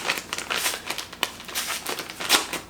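Packing tape being pulled and peeled off a mailed package, a series of crinkly, tearing rasps in short bursts, close and moderately loud with no talking.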